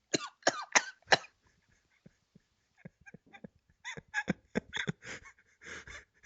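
A fit of harsh, repeated coughs in bursts, with quiet pauses and small throat sounds between, then another string of coughs.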